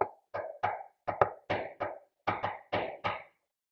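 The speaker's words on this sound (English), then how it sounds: "there came a knock at the door" Knocking at a door during a children's storytelling session: about ten sharp, close raps in loose pairs and short runs, loud and crisp against silence, with no talking.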